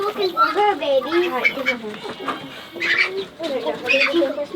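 A black duck named Fuzzbug quacking among newly hatched ducklings on a homestead, repeated close nasal quacks in quick bursts, mixed with other nearby fowl calls.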